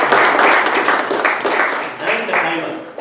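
A room crowd claps for a speaker and director at a Toastmasters club's 200th meeting celebration, with a steady, dense patter of applause that thins as a voice starts talking over it near the end.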